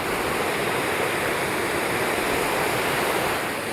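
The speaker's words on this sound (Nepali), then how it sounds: "हेर्न सक्नुहुन्छ यहाँ यो खोला एकदमै चिसो खोला छ" A cold river stream flows with a constant, dense rushing and hissing of water, close and fairly loud, with no voices.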